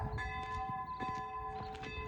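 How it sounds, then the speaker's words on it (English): Bells of a small chapel in Seefeld, Austria, ring at midday, with steady sustained tones and repeated strikes sounding out clearly in an open outdoor setting. "Let's go and have a look at the little chapel. The bells."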